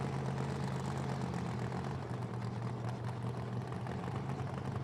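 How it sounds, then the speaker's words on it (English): A supercharged Corvette funny car drones with a steady, heavy engine roar during a drag run, sounding distant and unbroken for several seconds, with no talking. "Paul Harris out here for his second run in this supercharged Corvette."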